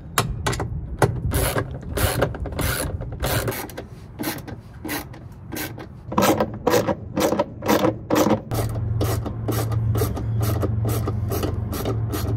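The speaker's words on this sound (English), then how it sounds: "Now we have to remove four 10mm screws to loosen up the gear shaft from the tub." Ratcheting wrench backing out 10mm screws from the gear shaft of a Whirlpool top-load washer during a gear case replacement: rapid, close clicking bursts in repeated runs, with brief pauses between strokes and a low mechanical hum beneath.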